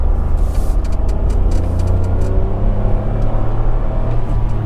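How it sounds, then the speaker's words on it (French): A steady, low three-cylinder engine drone from a Renault Captur 0.9 TCe, slightly uneven and throbby, heard from inside the car, continuous and fairly loud with no talking. "c'est un bruit de 3 cylindres et je trouve ça réellement vilain pour le coup"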